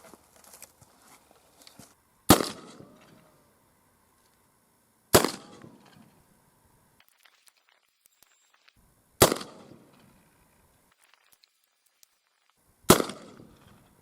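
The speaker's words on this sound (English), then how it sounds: "let's see if these dirt clod bullets actually shoot" Four sharp gunshots fire dirt clod bullets at a wooden target board, spaced a few seconds apart, each a loud crack with a short decaying tail and quiet between shots.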